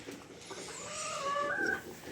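Hens on a village farm cluck in short tonal calls that rise toward the end, close and moderately loud over a low rustling background.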